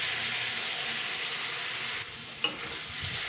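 Boiled banana flower tossed in a hot frying pan hisses in a steady, close sizzle, which drops briefly before a single spatula knock and then resumes, with no talking.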